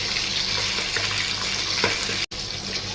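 Water pours steadily and close up into a pan of Bengali-style tilapia fish curry, a continuous splashing rush with one brief cut partway through.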